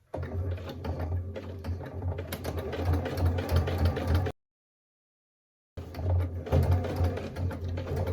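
Sewing machine stitching a seam around the edge of a fabric bread basket, a rapid steady mechanical whir with a brief stop partway through, then running again.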